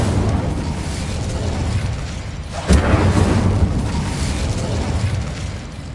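A fire spell cast in the video game Hogwarts Legacy, a sudden booming whoosh midway that leads into a sustained rumbling roar over a dense, noisy background.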